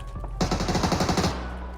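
Rapid automatic gunfire in the battle-royale game PUBG during a competitive qualifier match, a loud burst of repeated shots lasting close to a second before fading into background game noise.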